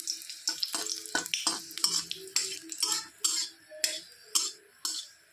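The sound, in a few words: dried red chili frying in oil in a wok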